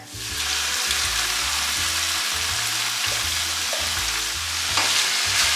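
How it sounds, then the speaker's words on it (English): Onion, poblano peppers and squash sautéing in avocado oil in a skillet, giving a loud, steady sizzle with a continuous hiss that starts abruptly as the vegetables hit the pan, close and alone. "I'm gonna put a little oil in this skillet. I'm using avocado oil. And I'm just gonna put all those veggies that we cut in here."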